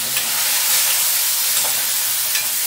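Onion and tomato frying in a pan, a steady close sizzle and hiss with faint stirring clinks, no voices.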